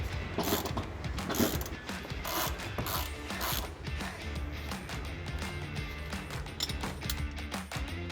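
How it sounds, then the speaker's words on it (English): Seat bolts are run back in on a 2004 Chevy Silverado with a ratchet, giving steady close clicking and ratcheting in continuous rapid bursts, with no talking. "Now we're just gonna put our 4 bolts back on."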